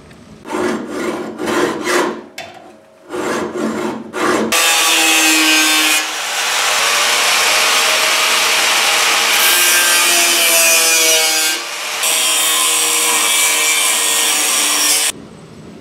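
A tool cuts out damaged wood on a 1929 car body: short choppy sawing strokes at first, then a long loud continuous grinding rasp with a brief dip partway through.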